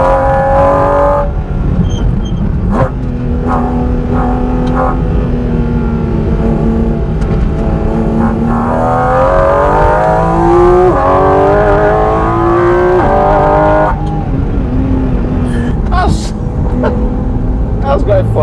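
A Porsche GT4 RS at full throttle around a bumpy private race track, its engine loud and close as it winds up through gears with rising pitch. A driver talks over it at times.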